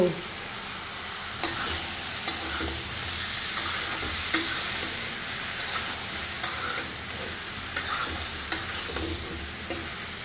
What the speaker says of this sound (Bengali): তরকারিটা আমি ভালো করে কষিয়ে নিচ্ছি।